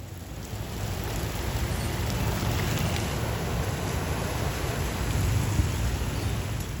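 Heavy rain pours steadily during a flash-flood disaster, a dense, even hiss of downpour on surfaces with a low rumble beneath, no voices.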